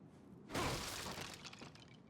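Breakable objects shatter in The Evil Within, a sudden loud crash of breaking pieces that trails off into scattered debris over about a second and a half, with no talking.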